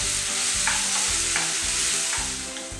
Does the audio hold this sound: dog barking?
no